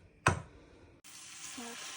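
A spoonful of grated potato batter goes into hot oil in a frying pan: a quick clink and thud, then a bright, close sizzle that bursts up and keeps going steadily, with no talking.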